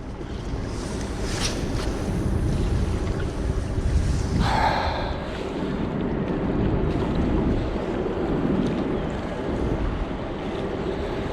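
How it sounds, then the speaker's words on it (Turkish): Steady light wind rushing outdoors while sea fishing, a broad continuous whoosh with faint gusts and water lapping underneath, no voices. "Çok hafif bir rüzgar çıktı şu an."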